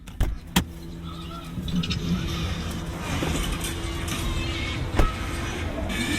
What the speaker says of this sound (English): Turn off the AC right here and turn off the car here.